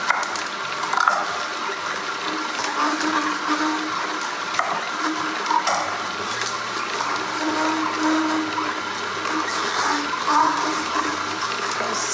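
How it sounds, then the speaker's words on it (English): An electric juicer grinds fresh grapes, a continuous whirring and crushing mechanical drone heard up close with small clicks and thuds scattered through, no speech over it. "I didn't want them to jam up the juicer, so I'm juicing just the grapes today."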